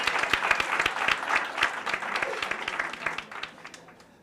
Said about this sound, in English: Let's give our finalists another round of applause.